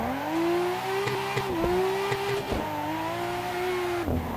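The Nissan Skyline from Fast and Furious, a 701-horsepower car in Assetto Corsa, revs hard while drifting, its engine note holding high in second gear with brief dips at shifts or the limiter, loud and continuous.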